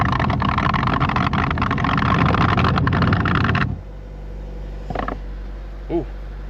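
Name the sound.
faulty car blower motor running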